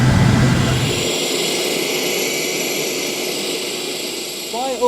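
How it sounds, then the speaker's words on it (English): A small ten-passenger float plane gives off a loud, continuous engine drone that holds steady throughout, with a deep rumble that drops away early on. "This is the float plane, and it may very well be the future of commuting."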